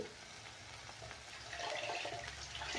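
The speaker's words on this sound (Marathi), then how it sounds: "आता आपल्याला याच्यात टाकायचं आहे पाणी" Water poured into an iron kadhai of roasted masala and turmeric for besan-dumpling amti, a steady close rush of pouring and bubbling liquid that grows slightly louder toward the end, with no talking.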